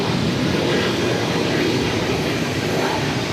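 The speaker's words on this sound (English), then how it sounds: "This is British Airways 213 coming in from London Heathrow on the A380." A British Airways Airbus A380 jet landing at Boston Logan, a steady broadband engine roar and rushing air that stays loud and constant throughout, heard alone.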